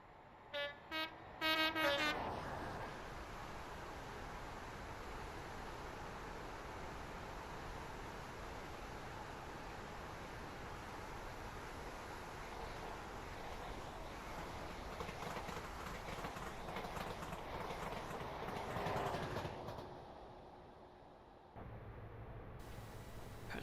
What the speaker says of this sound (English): So listen for those track joints.